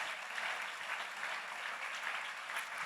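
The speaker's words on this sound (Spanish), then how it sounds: "Dele fuerte ese aplauso a Jesús." A church congregation applauds steadily after a Spanish-language sermon, a dense, even wash of clapping from many hands that holds without breaks.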